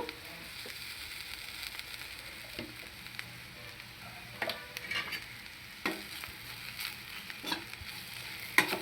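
Cluster beans fry in a tempering with spice powder, giving a low continuous sizzle with repeated light scraping stirs of a spoon in the pan, quiet and close with no talk.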